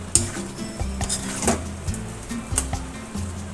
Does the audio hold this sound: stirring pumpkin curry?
yes